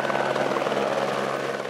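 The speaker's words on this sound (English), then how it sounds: "They used the Department of Public Safety's helicopter, which also has thermal capabilities." A Department of Public Safety search and rescue helicopter over American Fork Canyon gives off a steady, close rotor drone that fills the whole stretch without a break.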